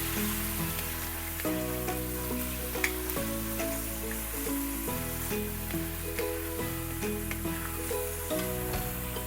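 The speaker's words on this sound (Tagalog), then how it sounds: "i-fry lang muna natin yan with butter." Cubed chicken breast fries in butter in a pan, a continuous soft sizzle with occasional crackles and pops, heard alone without talk.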